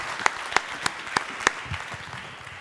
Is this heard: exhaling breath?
no